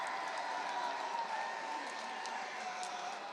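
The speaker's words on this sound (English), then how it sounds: "the Ole Miss fans finally with something to cheer about" Ole Miss fans cheer at a college baseball game against Auburn, a broad, steady crowd roar with scattered clapping, heard at a moderate distance.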